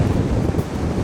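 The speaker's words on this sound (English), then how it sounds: "wow, it's really windy" Strong wind buffets the microphone at a coastal bay, a steady loud roar with surf-like rushing throughout, no talk.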